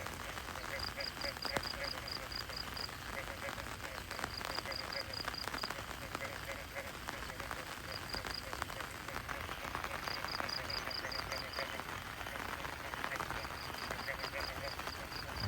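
Heavy overnight rain falling steadily, a dense continuous hiss with no breaks, and a faint repeating high electronic beep sounding in short bursts over it.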